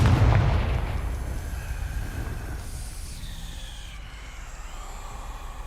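The Confringo blasting spell cast in the Hogwarts Legacy video game: a loud, booming blast at the start that fades into a long, rumbling tail with faint ringing tones, heard alone.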